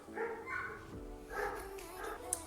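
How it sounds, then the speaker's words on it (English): Dogs bark and yelp in a few scattered bursts, somewhat distant and moderately loud against a faint background hum. "those dogs are making noise."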